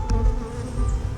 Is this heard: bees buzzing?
yes